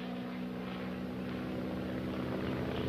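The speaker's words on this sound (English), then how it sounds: "And bad actors, it's noisy airplanes." Noisy airplanes fly overhead with a steady, loud engine drone that fills the whole stretch without a break.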